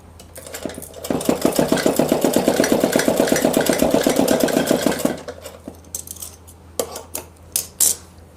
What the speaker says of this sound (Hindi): यहाँ पर मोटी सिलाई कर लेंगे।